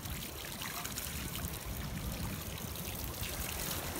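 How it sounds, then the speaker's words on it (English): Water pours and splashes steadily out of a sand-filled bag on a beach, a continuous close trickling rush that holds at an even level without a break. "dump it out, all the water."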